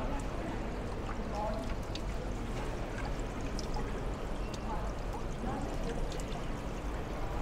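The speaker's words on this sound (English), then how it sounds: "The monument here has a waterfall, you can hear there" Steady splashing water rushes continuously from a monument fountain waterfall near St Paul's Cathedral, London, with faint city ambience in the background.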